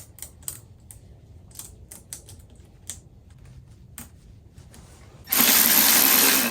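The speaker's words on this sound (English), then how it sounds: "Now with the clamp kit installed, I'm going to thread the bolts back in." Bolts are threaded back into a metal clamp kit on a salvage-rebuilt Kawasaki Ninja ZX6R motorcycle, heard as a string of light, close metallic ticks and clicks in an irregular rhythm, cut off by a sudden loud sustained hiss.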